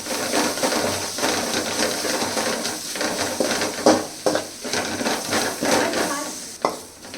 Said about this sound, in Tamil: இப்போ நம்ம வதக்கிக்கலாம்.